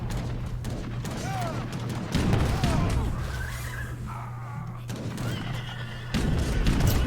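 Horses of Uhlan cavalry in a video game battle neigh and whinny amid dull booms and battle noise, with a voice talking over the commotion.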